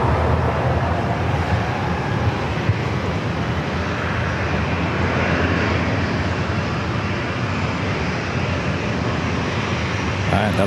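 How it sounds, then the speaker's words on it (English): A Southwest Airlines plane lines up on runway 27 at San Diego airport, its steady, loud engine roar filling the scene without a break while a radio voice talks faintly underneath. "Another Southwest flight lining up."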